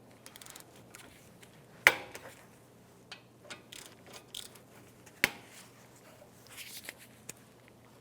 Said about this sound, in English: Now we're going to take the caliper off the bracket. It's a 14mm socket or wrench.